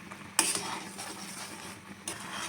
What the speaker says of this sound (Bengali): আমি এখন এটা ঢেলে নেবো